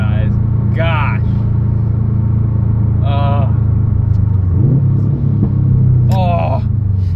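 A 2021 Subaru WRX STI turbocharged engine drones in a steady low rumble while driving, with a few short vocal exclamations breaking in over it.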